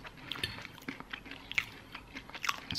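Close, crisp bites and crunchy chewing of a croque-monsieur, soft irregular mouth sounds recorded at low volume with no talking.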